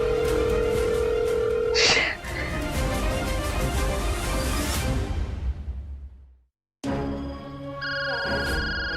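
A phone rings with an incoming call, its tonal ringtone rising in the last couple of seconds after a brief silent dropout, following loud, dense background sound.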